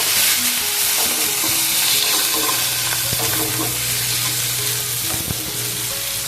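Tomato, capsicum and onion tossed in a frying pan, a loud continuous sizzle with repeated scraping and knocking of a spatula stirring the vegetables.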